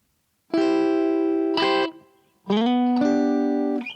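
A distorted electric guitar strums two sustained chords from the rhythm part of a song, pauses briefly, then plays two more ringing chords; no voices.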